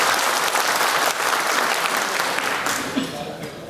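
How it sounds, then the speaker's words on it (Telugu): An audience at a jayanti celebration for Sardar Sarvai Papanna Goud claps loudly and continuously, dense applause that fades slightly toward the end. "ఒకసారి గట్టిగా చప్పట్లు కొట్టాలని."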